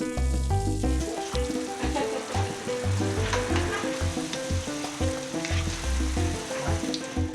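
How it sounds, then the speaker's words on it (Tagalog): Shakoy bread dough from Moalboal, Cebu, deep-frying in boiling oil hisses steadily beneath prominent background music. "At saka ipiprito sa kumukulong mantika."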